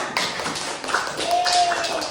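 Classroom applause from students, a brief burst of scattered clapping and tapping with a voice talking over it, close and moderately loud.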